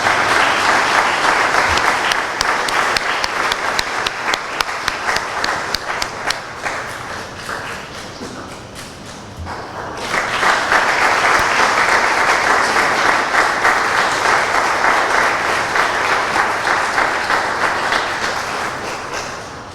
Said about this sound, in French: On peut applaudir pour lui quand même.